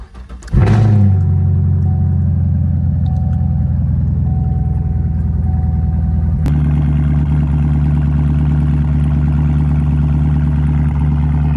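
A 2016 Chevrolet Camaro 2SS V8 fires up from a cold start with a sharp crank and roar, then settles into a loud, steady, deep high idle that holds throughout, heard close with no talking.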